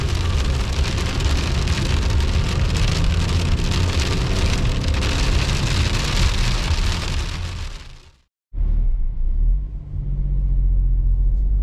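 Rain drums on a Citroën C3 Aircross 2022 while driving, a dense, loud hiss over low road rumble from inside the car, cutting out briefly near the end before resuming.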